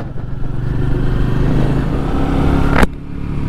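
A 2021 Royal Enfield Meteor 350 motorcycle rides along with a steady, loud, close engine rumble and drone that holds even for nearly three seconds before cutting off abruptly.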